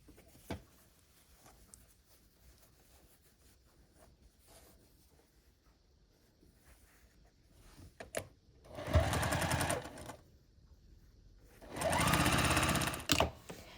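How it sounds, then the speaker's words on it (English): A sewing machine stitches the final seams of a scrappy sampler quilt block in two loud, steady runs of whirring, each lasting about a second or two, separated by a pause, with quieter handling sounds before them. "We just need to sew these 2 final seams here."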